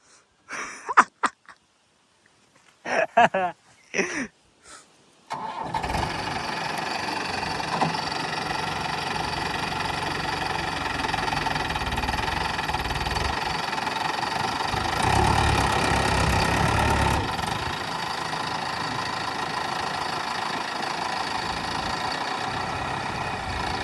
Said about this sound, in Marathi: चला काय पप्पांनी ट्रॅक्टर अडकून टाकलेला आहे